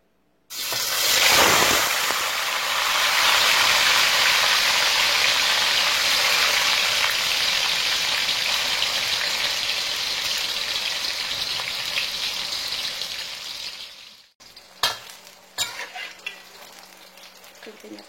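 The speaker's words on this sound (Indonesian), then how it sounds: "Kemudian kita goreng tahunya." Tofu drops into hot oil and sizzles loudly and steadily for about twelve seconds, then the frying cuts off, leaving a few clinks and scrapes in a home kitchen.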